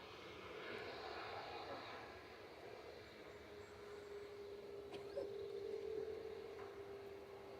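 An Airbus A321neo jet departs Manchester Airport, a distant broad engine roar holding steady under outdoor ambience with a faint steady tone emerging later.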